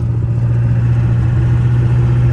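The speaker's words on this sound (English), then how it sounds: "So sit back, relax, and enjoy the beautiful turbo sounds." An OBS Ford diesel truck engine runs steadily with a deep, continuous low drone and a constant mid-range whir, loud and close throughout with no breaks or voices.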